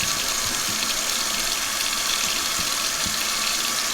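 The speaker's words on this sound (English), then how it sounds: "Got it inside now with the warm water." Warm water runs steadily from a tap into a sink while a tie-dye shirt is rinsed, a continuous close hiss with faint splashes and no talk.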